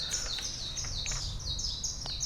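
High, thin repeated whistled notes of the saci bird (striped cuckoo) in Brazil, a steady sequence of short calls fairly close over faint background hiss.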